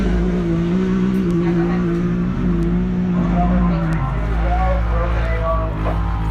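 UTV race vehicles roar past in the 2023 High Desert 100 desert off-road race, with a loud, steady engine drone that shifts pitch as one machine overtakes another, and voices talking over it.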